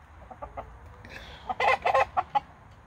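A chicken named Lorraine clucks in a quick run of sharp, fairly close calls that bunch into a rapid burst and then trail off, with no one speaking.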